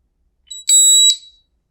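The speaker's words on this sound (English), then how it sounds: "We had that loud confirmation beep." A bright electronic confirmation beep from a PROA7PLUS security panel entering walk test mode rings out loud and close, held for about half a second, with short clicks at its start and end.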